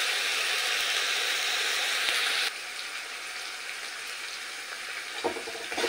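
Ginger paste frying in a pan, a steady hissing sizzle that drops in level partway through, followed by a short stir or scrape near the end.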